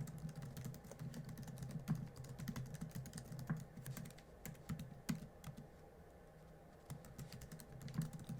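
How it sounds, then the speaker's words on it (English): Steady typing on a computer keyboard, a close run of light key clicks with brief pauses, continuing alone for several seconds. "So I'm typing in it and going."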